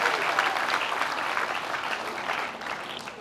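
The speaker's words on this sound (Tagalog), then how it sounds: "Yung malakas na palakpak kay Lord." A church congregation clapping loudly in praise during an Easter resurrection sermon, a full, sustained roar of applause from many hands that stays strong throughout and eases slightly near the end.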